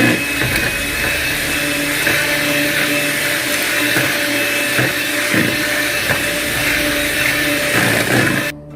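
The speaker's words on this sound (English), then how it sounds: "I got my electric mixer." An electric mixer whirs steadily while whipping cake batter with vanilla extract, a loud, close, continuous motor drone with slight wobbles in tone, cutting off abruptly at the end.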